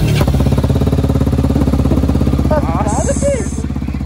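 A Honda XRE 300 motorcycle fitted with a Dore exhaust idles close by with a steady, loud, pulsing throb, while someone speaks briefly over it.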